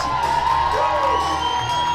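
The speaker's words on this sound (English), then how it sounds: "let's have a huge cheer for Mrs. and Mrs. Vikams." Wedding guests cheer and whoop together in a dense, continuous crowd roar that fills the room for a couple of seconds.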